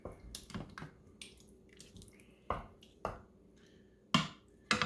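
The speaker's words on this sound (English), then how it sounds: "I'm going to give this a stir" Honey being stirred into a chicken lasagna sauce in an Instant Pot pressure cooker, heard as a series of quiet wet clicks and spoon taps against the pot, irregular and close, with no talk.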